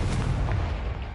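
A Confringo blasting spell goes off in Hogwarts Legacy, a dense booming burst with a heavy low rumble that holds steady for about a second, loud and close with no talk over it.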